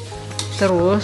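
Beef rendang with coconut milk is stirred and spread in a large, thick wok, with close, steady sizzling and scraping. A voice speaks briefly over it.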